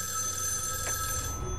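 A telephone rings in a horror video game, a steady electronic trill sustained throughout amid a dense droning background.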